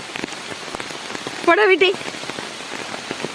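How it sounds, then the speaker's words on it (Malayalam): Heavy rain pours down in a dense, constant patter on surfaces, while a voice speaks briefly near the middle of the downpour. "പൊരിഞ്ഞ മഴയാണ് കേട്ടോ"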